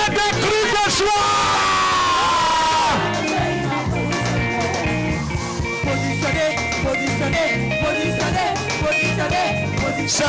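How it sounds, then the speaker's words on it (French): A church congregation erupts in joyful shouting and cheering, a dense continuous roar of many voices with yells and whoops, loud and close, over music and a voice speaking. "Est-ce qu'on peut pousser des cris de joie?"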